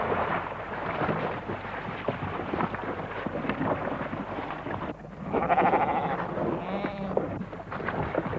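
Sheep bleat on Isle of Lewis moorland in 1970 footage, a few wavering calls rising over a rough, noisy outdoor background, without speech.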